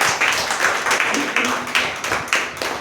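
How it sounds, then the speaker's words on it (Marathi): A church congregation claps for the worship team after a service, a brief round of rhythmic, fairly loud hand claps repeating in a steady beat with no talking. "आपण त्यांच्यासाठी जरा टाळ्या वाजूया सर्वजण"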